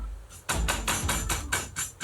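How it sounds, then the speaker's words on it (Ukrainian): Chicken fillet pounded with a meat mallet in a kitchen: seven quick, evenly spaced thuds, each loud and close, following a brief quieter lead-in. "бери молоточек, отбивай мясо"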